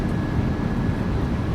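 Thrust reversers roar on a PMDG 737 landing in Microsoft Flight Simulator 2024, a steady dense engine rumble with broadband hiss holding at constant loudness throughout, no voices over it.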